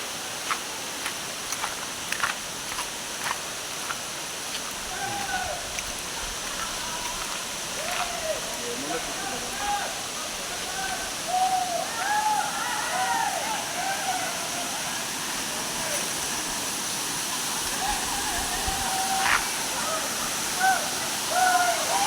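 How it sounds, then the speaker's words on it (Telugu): Munjuluri waterfall at Kannapuram rushes in a constant, full roar close by, with scattered bird calls and chirps breaking through the water's noise throughout. "ఇదే ఫ్రెండ్స్ వాటర్ ఫాల్."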